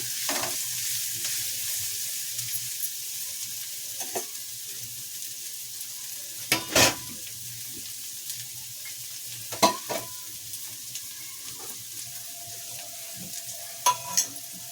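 Garlic-ginger paste frying in a pan gives a faint, steady sizzle, broken by a few sharp, sparse clicks of a spoon being stirred against the pan.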